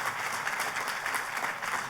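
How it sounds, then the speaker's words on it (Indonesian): A church congregation applauds during a Christmas sermon, a steady, dense wash of many hands clapping at once that holds evenly across the whole stretch without a break. "Tepuk tangannya yang paling meriah buat Tuhan kita."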